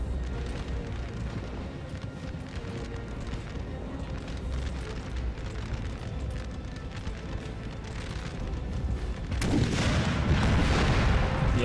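Battle scene from Napoleon: Total War at Friedland 1807, a continuous rumbling din of massed fire with an abrupt, louder burst of booming blasts near the end, heard alone.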